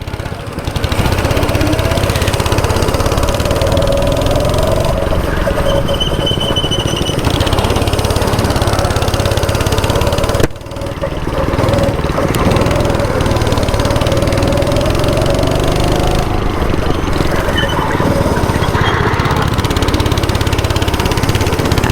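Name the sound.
go-kart petrol engine running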